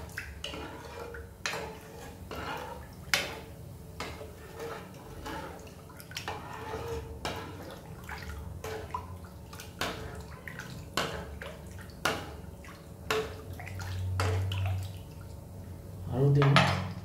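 Spoon stirring vegan chili chicken in a pan, a series of distinct metallic clinks and scrapes recurring roughly every second, with faint liquid sounds beneath and a soft low voice murmuring now and then.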